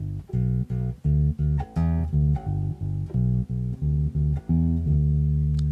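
A bass boogie pattern walking over root, third, fifth and sixth, played as steady repeated plucked notes in an even rhythm, close and clear with no talking.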